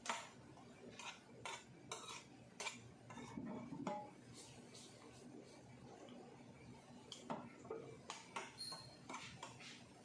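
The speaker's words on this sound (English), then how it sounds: "Stir." Pasta with parmesan is stirred in a pan, producing quiet, irregular clinks and scrapes of a utensil against metal in bursts over a faint background, with brief low murmurs of a voice.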